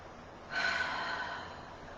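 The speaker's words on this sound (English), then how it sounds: "Take a deep breath." One deep, breathy inhalation, soft and close, rises suddenly and then fades out slowly in a quiet room.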